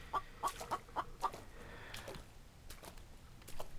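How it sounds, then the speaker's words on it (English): A chicken in the survival game The Infected clucks close by, a quick run of five sharp clucks in the first second and a half, then a softer one near the end over low ambient noise. "That chicken sounds awfully close."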